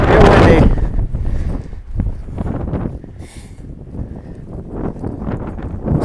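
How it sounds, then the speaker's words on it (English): Strong wind buffeting the microphone on a hilltop along the Hayduke Trail, loud rumbling gusts strongest at the start and then a steady roar with fluctuating force. "Ooh, super windy up here."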